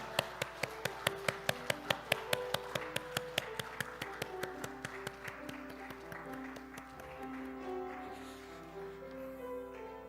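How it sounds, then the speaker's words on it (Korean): A church congregation at a Sunday service claps in a steady, evenly spaced rhythm for about five seconds, fairly quiet and distant, before the clapping fades into soft, sustained organ-like tones. "하나님께 영광의 박수 올려드리겠습니다"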